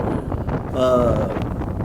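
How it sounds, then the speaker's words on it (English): Gusty wind on the Nebraska prairie on a cold, cloudy March morning, buffeting the microphone with a steady low roar that swells in the middle, while someone speaks faintly underneath. "Winds gust up to 30 miles an hour."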